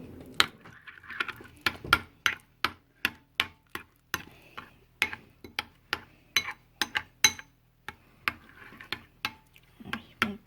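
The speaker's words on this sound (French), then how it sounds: "Nous allons mélanger tout cela ensemble." A spoon stirs crushed garlic, pepper and salt in a small pot, giving a steady run of crisp clinks and taps as metal strikes the sides, about two per second, close and clear with no talk.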